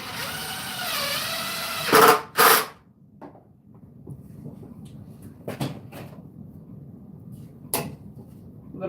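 Power drill bursts drive screws as antlers are fastened back into their old holes. A whirring run and two loud buzzing pulses are followed by scattered clicks and knocks in a quiet room.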